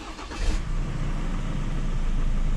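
A Ford Ranger Raptor fitted with an aftermarket power chip starts up, a brief cranking burst settling into a steady, close, rumbling idle with no talking.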